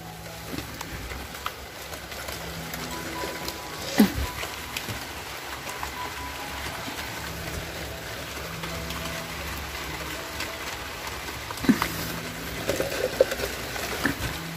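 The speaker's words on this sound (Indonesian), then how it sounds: "Hujan." Rain falls steadily in a garden with moth orchids, a soft continuous patter with scattered louder drops and faint bird calls in the background.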